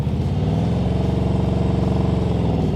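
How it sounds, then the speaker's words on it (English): A motorcycle engine runs at a fast, pulsing rev under heavy throttle during a slow-speed practice maneuver. The sound is loud and close, with an even throbbing beat for a few seconds. "A little too much throttle on that one"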